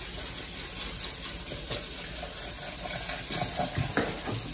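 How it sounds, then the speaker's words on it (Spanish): Milk, about a litre, poured into a pot of potato soup, a continuous soft liquid splashing and gurgling with faint bubbling, fairly quiet and close. "Vamos a echar su leche,"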